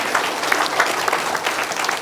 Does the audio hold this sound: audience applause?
yes